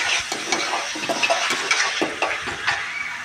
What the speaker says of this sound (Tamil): இஞ்சி பேஸ்ட்டு கொஞ்சம் சேர்த்துக்கிறோம். அது நல்லா வதங்கிடுச்சு.